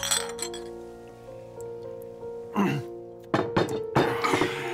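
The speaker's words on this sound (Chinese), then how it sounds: "放开，来来来，干杯！" Drinking glasses clink together in a toast at a table, a clear ringing chime that lingers, followed by further sharp clinks and thuds as several people join in.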